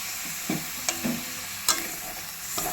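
Food frying in a kadai over a gas flame is stirred in a few sharp scrapes and clinks against a steady sizzling hiss, with no one speaking.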